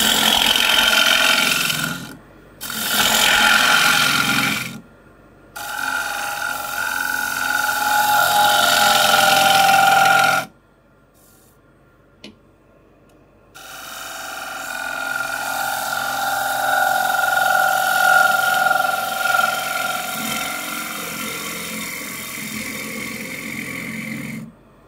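Steel gouge hollowing a wooden piece by hand, producing loud scraping and rubbing strokes in long bursts separated by short pauses, close up with no talk.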